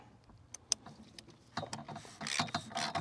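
A ratchet tightens a bolt down to a specified torque of about 25 newton metres, giving quiet close-up clicks and a short burst of rapid ratcheting toward the end.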